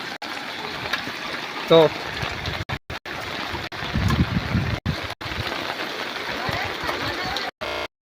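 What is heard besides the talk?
floodwater flowing around village houses after heavy rain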